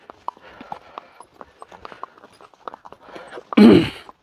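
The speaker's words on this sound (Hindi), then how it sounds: "ये देखो भैया घोड़े को लेके जा रहा हूँ मैं" Hooves of a horse being led through snowy Kashmir clip-clop in a light, irregular walking rhythm, close by, followed by a sudden louder burst near the end.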